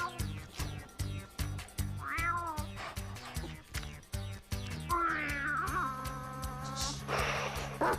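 A cat meows repeatedly over a thumping rhythmic music beat in a commercial, several drawn-out mewing calls, the later ones longer and louder.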